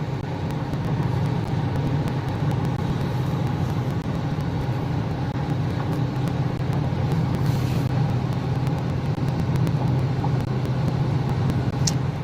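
A pickup truck drives along a road, a steady low engine and tire rumble with continuous road noise holding at an even level throughout, with no talking.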